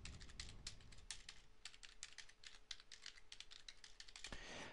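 Quick, steady typing on a computer keyboard, a run of light clicks close by and fairly quiet, with no talk over it.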